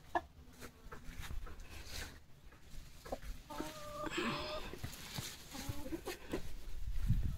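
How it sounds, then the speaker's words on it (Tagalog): Chickens on a rural property in Binangonan, Rizal, Philippines, cluck intermittently at a moderate distance, soft and scattered, with occasional rustling and outdoor background sounds. "Kaya dyan sa kabila yung mga manok."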